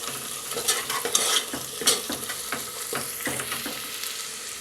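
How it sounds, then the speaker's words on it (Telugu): Pounded ginger-garlic paste fries with browned onions for a goat-head curry, sizzling loudly in the pan while a spoon scrapes and stirs in repeated sharp strokes. "ఉల్లిపాయలు చక్కగా ఫ్రై అయ్యాయి ఇప్పుడు దీనిలో దంచి పెట్టుకున్న అల్లం వెల్లుల్లి పేస్ట్ వేసేద్దాం"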